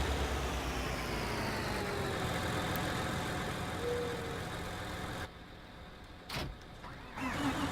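A New Holland tractor engine in Farming Simulator 19 runs with a steady, continuous drone that dips and quiets near the end before swelling back up.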